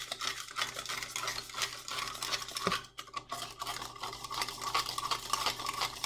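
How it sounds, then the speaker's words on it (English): Borax solution is stirred in a glass beaker, giving a steady, soft scraping swirl from the bottom with a brief pause midway; quiet and close, with no speech. "And then go ahead and stir. You want to stir from the bottom."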